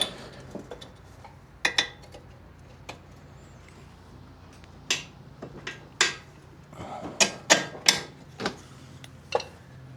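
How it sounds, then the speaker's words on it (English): Bolts fitted into a motorcycle suspension during an upgrade on a Cobra, with scattered metallic clinks, taps and ratcheting clicks, close and sharp over a quiet garage background. "Bolts go in from the back."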